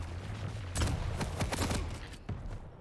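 Rapid crackling bursts of the lightning gun fire in a Quake Pro League match, dense stuttering zaps in quick clusters over a constant loud game background, with a final short burst after a brief pause.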